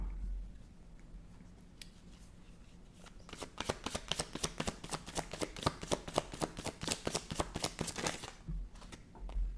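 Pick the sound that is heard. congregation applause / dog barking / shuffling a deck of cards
shuffling a deck of cards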